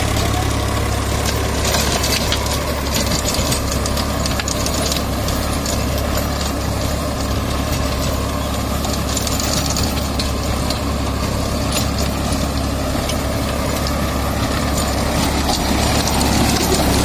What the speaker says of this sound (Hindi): आप देख सकते हैं ट्रैक्टर कितना अंडर लोड चल रहा है।